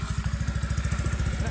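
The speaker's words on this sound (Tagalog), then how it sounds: "sasakay na kami sa motor." A motorcycle engine idles close by as riders get on, giving a steady, fast, even thumping pulse that stays loud and unbroken throughout.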